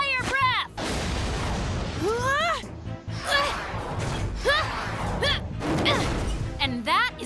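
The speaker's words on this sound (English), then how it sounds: "And now, fire breath!" Cartoon fire-breath attack from an animated dinosaur, a Dimetrodon, sounding as loud roaring blasts and booming bursts with whooshing tails, broken by short gaps, mixed with rising squeaky character vocal cries throughout.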